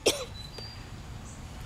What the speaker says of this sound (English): Excuse this dry cough.